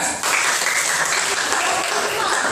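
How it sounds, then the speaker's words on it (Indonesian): A group of children in a classroom lesson clap their hands together in a sudden, dense burst of applause that starts after a short pause and keeps going briskly. "dalam hitungan ketiga, silahkan tepuk tangan"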